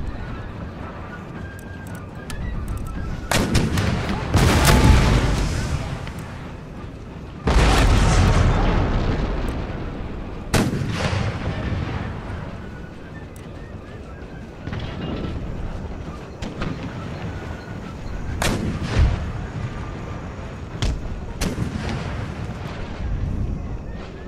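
Artillery firing canister shot during a siege of Lahore in Total War: Empire, heavy booming volleys and rumbling blasts rolling over one another, with loud thuds, long decaying echoes and distant battlefield din throughout.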